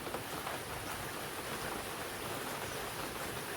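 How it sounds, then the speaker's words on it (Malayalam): Dense, steady rain hisses without a break, a constant wash of falling water filling the whole clip with no voices. "അപ്പോൾ ഇവിടെ നല്ല മഴയാണ് പെയ്യുന്നത്."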